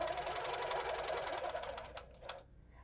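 A sewing machine stitches a clamshell design with a circle quilting ruler, running in a fast, even whir that fades out near the end, with a couple of light clicks.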